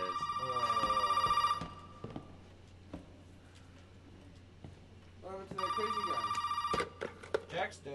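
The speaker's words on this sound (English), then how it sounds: "Where's the phone? Is it ringing?" Telephone in a Resident Evil video game rings in two bursts of rapid bell trills, separated by a quiet stretch with faint footsteps and game sounds.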